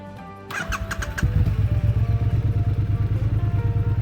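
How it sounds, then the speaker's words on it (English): A Triumph Street Twin EC1 limited-edition motorcycle with a 900 parallel-twin engine starts up and settles into a steady, throbbing idle, close and clear with no talking. "That's the 900 parallel twin, pumping out 64 horsepower at 80 Newton meters of torque"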